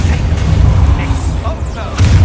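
A Confringo fire spell blast in Hogwarts Legacy, a deep booming thump with a rumbling low tail amid busy game noise, one main impact followed by a second swell near the end.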